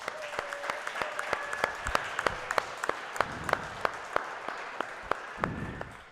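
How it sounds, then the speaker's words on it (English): An audience at a Las Vegas Kings fight qualifier applauds the athletes with a steady round of clapping, sharp individual claps standing out over a continuous wash for about six seconds, with some voices faintly mixed in. "Let's give these athletes a quick round of applause."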